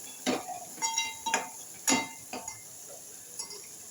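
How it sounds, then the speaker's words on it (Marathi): Masala being stirred and sautéed in a pan for an Agri-style prawn curry, with a few distinct clinks and scrapes of a spoon against the pan spaced across a quiet background. "छान असा मसाला ह्याच्यामध्ये अर्धा मिनिट फक्त आपण परतून घ्यायचं आहे"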